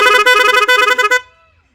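A loud, sustained bus horn blares for just over a second, then cuts off abruptly, leaving a brief fading ring and near silence.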